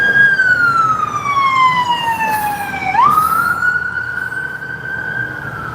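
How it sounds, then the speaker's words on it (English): Ambulance siren passing on a street, a loud wailing tone that drops in pitch as it goes by, then steadies and fades slightly, heard alone without talk. "we'll let this ambulance go by"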